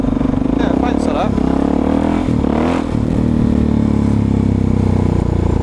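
A loud dirt bike engine drones continuously while riding on roads around Dunstable, with revving pitch changes and some wind rush, and someone talks over it.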